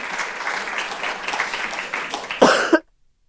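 A single sharp cough bursts out near the end, preceded by a muffled room murmur at a conference panel.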